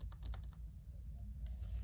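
A few quick keyboard key clicks near the start, then a pause and a couple more soft taps, over a low steady background hum.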